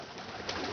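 A pigeon coos in one soft, continuous burst, heard close and alone.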